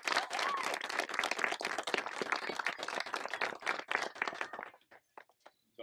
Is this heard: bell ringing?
no